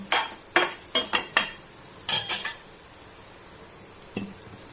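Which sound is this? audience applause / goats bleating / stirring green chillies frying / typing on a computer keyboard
stirring green chillies frying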